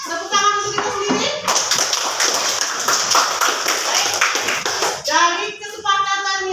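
Classroom group clapping for themselves, a dense burst of applause that runs for several seconds between stretches of talking.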